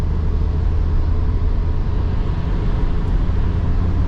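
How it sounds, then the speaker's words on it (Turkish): Steady low road rumble and wind noise inside a moving Toyota Yaris with a 1.0 petrol engine, cruising at around 3500 rpm; a continuous even drone with no talk over it. "dışarıdan tabii ki ses alıyor araç. Yol sesi var. Rüzgar sesi de var."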